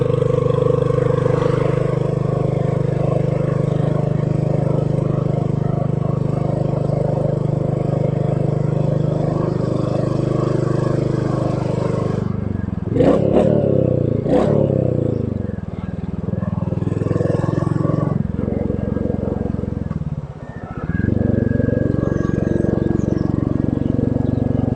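A motorcycle engine pulls steadily up a long incline without a downshift, a loud continuous drone near the rider with a brief shift in tone midway before settling back to the same even hum.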